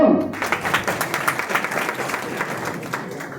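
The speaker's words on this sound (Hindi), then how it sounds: "ताली तो बजा दो" Scattered clapping from an audience at a professional meeting in Bhiwani, a loose patter of hands that thins out over a few seconds.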